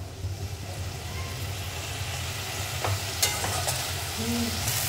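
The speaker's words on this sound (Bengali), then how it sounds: "ধনে পাতা দিয়ে একটু নেড়ে ছেড়ে নামিয়ে নেব।" Puti fish curry with coriander leaves being stirred in a pan, a steady low sizzle with soft scraping strokes and a few sharper clinks near the end, close and moderately loud.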